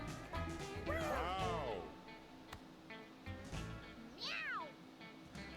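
Cartoonish cat meows from the video game Mewgenics, two rising-and-falling meows a few seconds apart over a steady game music bed, fairly quiet.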